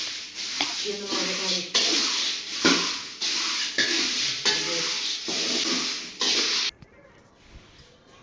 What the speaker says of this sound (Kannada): ಇದು ನೋಡ್ರಿ ಮಸಾಲೆ ಹುರಿಯತ್ತಾರ ಈಗ.